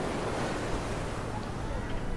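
Ocean surf rolls in at a beach in a steady, dense wash of wave noise mixed with wind buffeting the microphone, loud and unbroken throughout.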